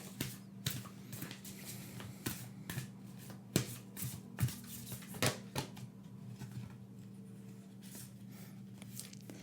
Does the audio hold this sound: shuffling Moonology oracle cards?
yes